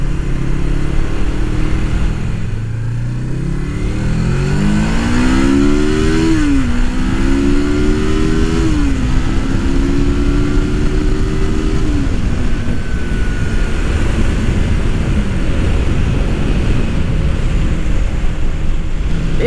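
A 1989 Suzuki GS500 cafe racer on back roads, its engine droning loud and close, rising in pitch through several gear changes with steady wind rush underneath and no talk.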